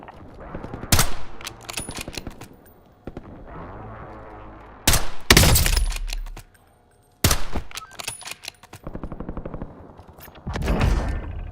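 Gunfire in a Call of Duty Warzone-style video game: several loud bursts of rapid shots and heavy single blasts with sharp attacks and ringing decays, separated by quieter stretches of ambient game noise.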